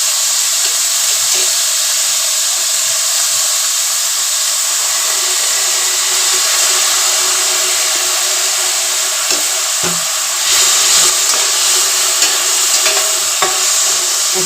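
Egg chowmein frying in a home-kitchen pan with a little oil and chili, giving a steady, close sizzling hiss that runs unbroken throughout, with a few faint scrapes and clinks near the end.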